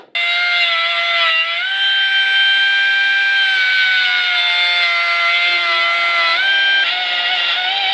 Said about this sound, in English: So first thing I'm going to do is size this and drill out those holes.